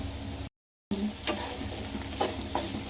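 Curry leaves and coriander leaves sizzling as they roast in a pan for mushroom pepper dry, a steady close frying hiss with occasional stirring scrapes and a brief dropout.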